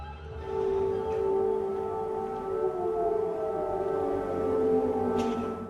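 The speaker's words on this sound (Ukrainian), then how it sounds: "П'ять хвилин безперервно місто будили сирени оповіщення цивільної оборони" A long, steady wail of a civil defense warning siren drones from afar over Ternopil, Ukraine, its pitch gently sliding, with no voices over it.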